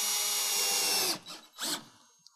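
A power driver runs pancake-head fasteners into an SL-16 metal roof panel from American Building Components: one long, loud whirring drive, then two short, sharper bursts as the screw seats, with no talking.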